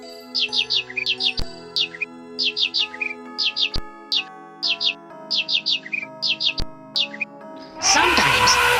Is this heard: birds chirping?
yes